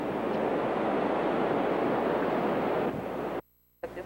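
Pacific Ocean surf on a warm day, a loud steady wash of breaking waves with wind buffeting the microphone, cutting to near silence briefly near the end before the roar returns.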